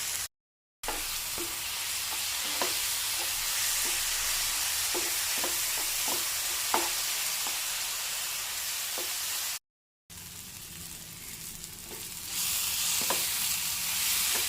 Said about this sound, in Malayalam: ഈ സമയത്ത് നമുക്ക് ടൊമാറ്റോ ക്രഷ് ചെയ്ത് വെച്ചിരുന്നത് ഒഴിച്ചു കൊടുക്കാം.